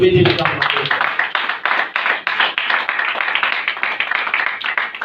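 A church congregation claps and applauds God in a dense, steady wave of hand claps that carries on loudly without a break, and a voice can be heard at the very start.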